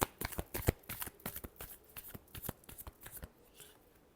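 Tarot cards being shuffled in a rapid run of crisp riffling flicks and soft slaps, close and fairly quiet, with no voices over it.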